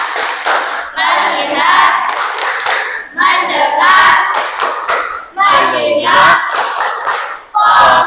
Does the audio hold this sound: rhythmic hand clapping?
yes